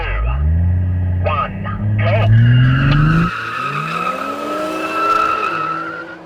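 A Mercedes-AMG A45 S and a Toyota Supra launch in a drag race, engines revving hard and rising in pitch with a tire squeal, then shifting. A voice is heard briefly.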